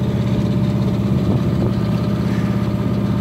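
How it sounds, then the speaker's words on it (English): A sailboat's engine motoring in calm morning air on a singlehanded trip, a steady, close, low droning hum at constant pitch with no talk. "So here now I've the engine on because there's no breeze really."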